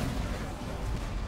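Explosions going off in the game Dungeon Defenders 2 on the Molten Citadel map, a dense, steady rumbling barrage of blasts with no distinct gaps and no speech over it.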